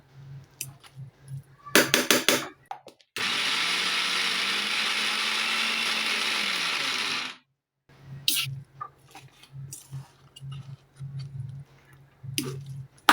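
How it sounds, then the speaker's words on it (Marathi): A mixer grinder coarsely grinds soaked dal for crispy dal vadas in one loud, steady whirring burst of about four seconds. Clicks and handling knocks come before and after it as the jar is stopped and opened. "मिक्सरने तर तुमची पेस्ट होऊन जाईल डाळीची मध्ये मध्ये खोलून सेकंद सेकंद फक्त वाटत राहायचं"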